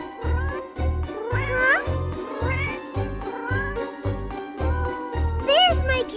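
Several cats meow in a high, sliding rise-and-fall over a steady rhythmic thumping backdrop with a light jingle, repeating across the stretch; a brief spoken word cuts in once.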